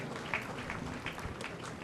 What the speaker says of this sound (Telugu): చప్పట్లు కొట్టి వారందరిని అభినందించుదాం.